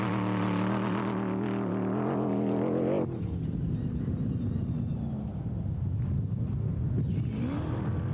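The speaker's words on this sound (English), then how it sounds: "Just listen to the sweet sound of that Audi V8 motor." An Audi V8 race car engine revs hard near the microphone, its note climbing through gears before cutting to a lower, rough drone as the car passes on.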